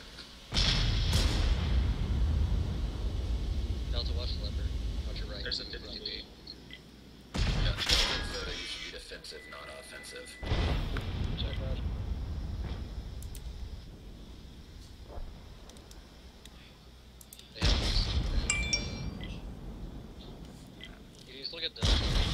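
Tank cannon fire in the World of Tanks game, in clan wars play: four heavy booming shots, each followed by a long rumbling decay over low wind-like noise.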